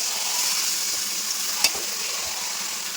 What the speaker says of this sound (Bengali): একদম হাই ফ্লেমে মাটনটা কষাবো